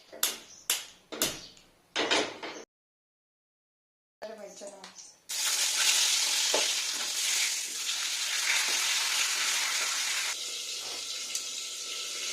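Fish head pakoras (peyaji) frying in hot oil give a steady, loud sizzle lasting several seconds. Clatter and short handling sounds come first, then a brief silence before the frying begins.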